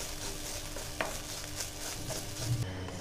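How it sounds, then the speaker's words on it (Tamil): Grated coconut dry-roasts in a pan over a medium flame, with a spoon softly scraping and stirring through it and a faint, quiet crackle underneath, all close up with no talking. "மீடியம் ஃப்ளேமில் வச்சு ஒரு 5 நிமிஷம் அப்படியே நாம் வறுத்துக்கலாம்."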